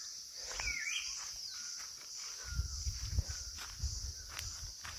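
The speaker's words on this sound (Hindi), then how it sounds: "बस पक्षियों की थोड़ा चहचहाने की आवाज़ है" A few bright bird chirps and short whistled calls in a quiet morning hill village, heard near the start. Soft footsteps and rustling follow, and no one speaks.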